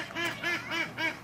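Ducks at a wedding give four evenly spaced nasal quacks, moderately close and alone with no talking.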